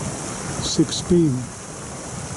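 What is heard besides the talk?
light drizzling rain outdoors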